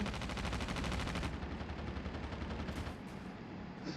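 Rapid bursts of gunfire in COD Mobile rattle in quick succession, loud and close, then fade into scattered shots and a brief electronic tone.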